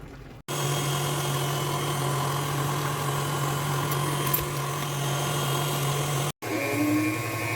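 An electric mixer whips frosting with banana pudding mix, whirring steadily at close range, a constant motor drone that cuts off briefly near the end before restarting.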